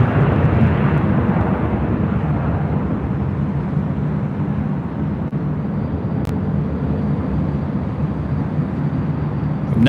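An ANA Dreamliner airliner at LAX, running on the runway, gives a steady, loud, broad jet roar that holds for about ten seconds with no break.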